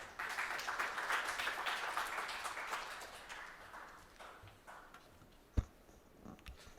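Audience applause at a Seoul fund report event, welcoming a transit workers' union leader to the stage: dense, steady clapping for several seconds that tapers off, ending with a single sharp knock.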